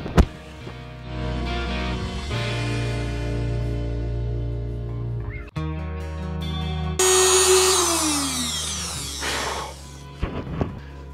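Router cutting a pickup cavity into a guitar body, a loud whining motor that holds steady, briefly cuts out, then returns with harsher, rising cutting noise before spinning down.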